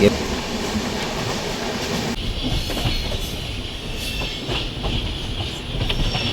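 A passenger train on the Thiruvananthapuram to Ernakulam line runs at speed past Sasthamkotta railway station, its wheels and carriages giving a loud, continuous rumble and rattle with rhythmic clatter from start to finish.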